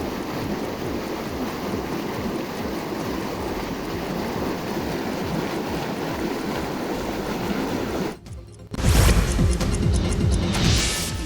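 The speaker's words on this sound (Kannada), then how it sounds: "ಪೈಪ್ ಒಡೆದು ನೀರು ಪೋಲಾಗ್ತಾ ಇದೆ" Water gushes loudly and steadily from a burst pipeline, a continuous rushing roar heard close up, cutting briefly before surging again even louder.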